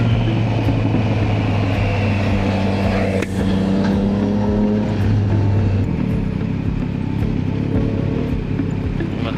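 Road traffic rumbles around a Triumph Trident 660 motorcycle, with a loud, steady low engine drone and vehicle noise close by that shifts partway through, with no talking.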